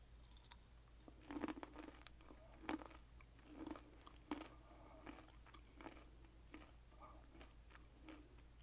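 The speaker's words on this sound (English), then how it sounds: "They definitely do require some chewing, as most seeds do." Crunchy sweet cinnamon-coated pumpkin and sunflower seeds chewed close to the mic, with a steady run of soft, crisp crunches at a quiet level and no talking.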